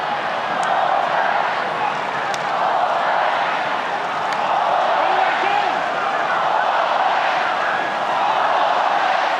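A stadium crowd at a Tri-Nations rugby union match between New Zealand and Australia roars steadily, a broad continuous wash of cheering and voices that holds loud throughout.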